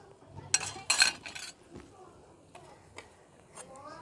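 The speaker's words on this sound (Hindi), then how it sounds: "अब हम निकालेंगे और चाश में डालेंगे" Fried sweets lifted out of hot oil and dropped into sugar syrup, with a few sharp metal clinks of a utensil against a pan, then light sizzling and quieter scraping taps.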